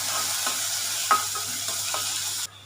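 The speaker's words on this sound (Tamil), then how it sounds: "வெங்காயம் நல்லா வதங்கணும்." Onions sauté in a hot pan for chicken cheese murtabak, a steady close sizzle broken by a few scraping stirs before the sound cuts off abruptly near the end.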